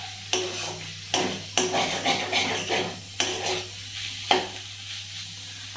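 A spoon stirs and scrapes food frying in a little oil in a metal pan, giving several distinct scraping strokes over a soft sizzle and a steady low hum.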